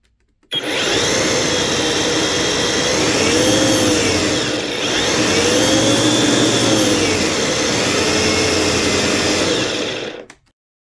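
EGO DA1400 electric dethatcher running at speed 2: a loud, steady motor whine with a rushing hum, starting abruptly and dipping briefly midway before recovering, then cutting off.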